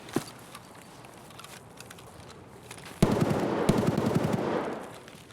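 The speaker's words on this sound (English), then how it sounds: "So if you guys heard that, that's a gun we don't want to go up against." Gunfire in the video game Escape From Tarkov: a quiet stretch with a few faint distant pops, then a loud close burst of rapid automatic fire for about a second and a half that fades off.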